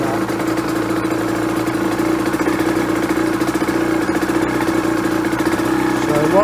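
A motorcycle engine idles steadily after a cold start on a 50/50 fuel mix, a continuous close, loud drone with an even pulse throughout and no clear revving.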